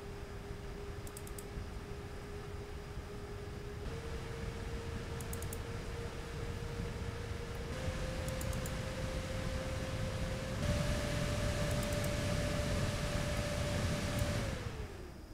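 Fans of an Asus ProArt 4080 Super graphics card spinning, a steady whooshing hum with a faint tonal whine that steps up in pitch and loudness as fan speed rises in stages, then winds down.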